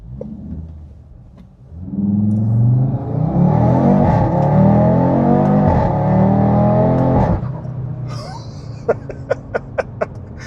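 An Audi RS3 8Y2 builds from a low idle into a loud, rising surge of acceleration, the engine note climbing for several seconds before cutting off, followed by a few sharp crackles and pops.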